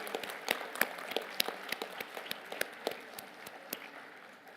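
Scattered applause from a conference audience at a space exploration event, with many distinct hand claps forming a steady, moderately quiet clatter that stays even throughout with no voices.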